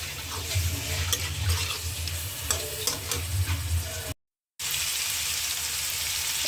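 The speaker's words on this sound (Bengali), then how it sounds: "এবার মাছটা একটু কষিয়ে নেব।" Fish sizzles loudly in hot oil in a pan, a dense crackle with stirring scrapes that cuts out briefly to silence and then comes back just as strong; no speech.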